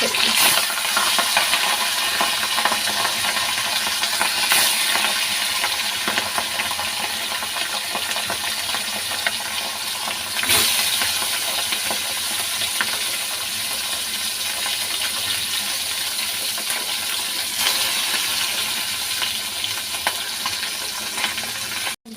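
Fish frying in very hot oil in a kadai, a dense steady sizzle and hiss that fills the whole stretch with occasional crackling pops, loud and close.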